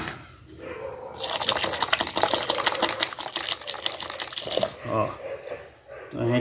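Tap water pours steadily into a homemade paint mixture for a minute or so of sustained splashing, a bright rushing stream that stops and then trickles briefly while a voice talks nearby.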